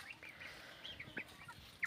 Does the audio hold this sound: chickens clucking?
yes